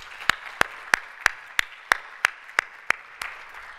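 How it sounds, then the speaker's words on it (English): Keynote attendees at a summit clapping for themselves, heard as about ten crisp, evenly spaced single claps in a steady slow rhythm, fairly close, without a fuller crowd. "So please give yourselves a round of applause for being here today."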